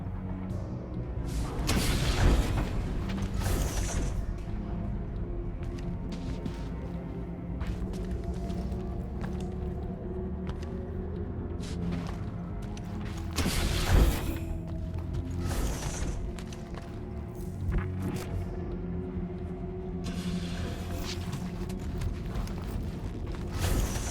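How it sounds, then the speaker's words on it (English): Dye machine mechanism in the Guardians of the Galaxy video game: rumbling machinery with creaks, irregular heavy thumps and bursts of noise layered over a continuous low drone, moderately loud throughout. "Some kind of dye machine."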